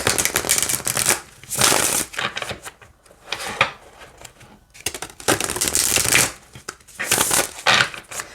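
A deck of tarot cards is shuffled repeatedly, with bursts of rapid riffling and flapping separated by brief pauses, close and fairly loud.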